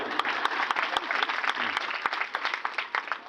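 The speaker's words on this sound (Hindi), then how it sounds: "इनके लिए भी ताली बजा दो" A gathering at a Shrimad Bhagavat Katha in a residential colony claps for the host's wife, a steady round of hand claps from a nearby crowd with sharp individual claps standing out.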